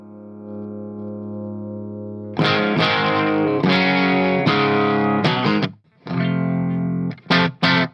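Clean electric guitar through a Marshall amp's clean channel with no reverb, dry and unaffected: a sustained low note, then strummed chords in bursts with brief pauses, fairly loud and alone.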